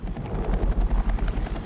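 Steady rhythmic whump of a helicopter's main rotor spinning at high speed, a loud, close, pulsing drone with no voices.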